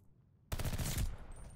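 Burst-fire Itra rifle in Call of Duty: Vanguard ranked play, a sudden loud, close volley of rapid shots that cuts in after near silence and fades into a trailing ringing tail.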